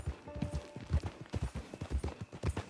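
Horse hooves clip-clopping at a steady trot in a video game on a PS4, a close, rhythmic run of thuds lasting throughout with nothing else prominent.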